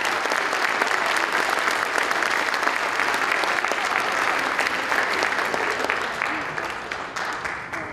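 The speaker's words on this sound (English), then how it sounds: "Can we give her a big round of applause?" A school band winter concert audience gives a student teacher a big round of applause, dense sustained clapping filling the hall and tapering slightly toward the end.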